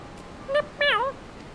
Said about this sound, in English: 2 mews for yay, 1 for nay.